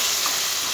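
Steady, bright sizzling of mutton frying in a pan, a constant close hiss of hot oil with no talk.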